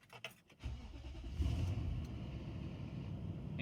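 A car engine cranks and starts during an oil change, catching after a few stuttering turns and then settling into a steady, close idle with no talking.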